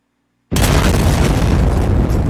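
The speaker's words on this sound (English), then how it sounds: "give you this one big, meaty explosion" A single huge explosion bursts in after half a second of silence and roars on as a dense, crushed, heavily distorted rumble, loud and unbroken.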